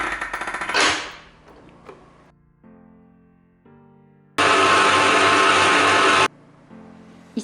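Focaccia dough with olive oil and water is mixed by machine, starting with a few short whirring bursts, then a loud steady run of about two seconds before it stops.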